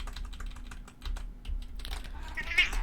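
A cat meows near a computer keyboard while keys clatter in quick, steady typing, the soft meow rising briefly toward the end over the tapping.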